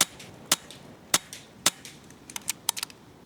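Air rifle shots crack out in sharp, short snaps, a few spaced shots followed by a quicker cluster of sharper clicks and pops, close and distinct against quiet surroundings, with no voices.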